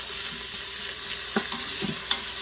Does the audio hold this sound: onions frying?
yes